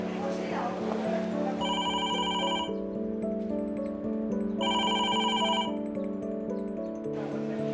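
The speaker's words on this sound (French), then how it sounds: "Je vais appeler Lucretia pour voir s'il y a quelque chose." A telephone rings unanswered indoors, two clear bursts of electronic ringing separated by a pause, set over soft background music.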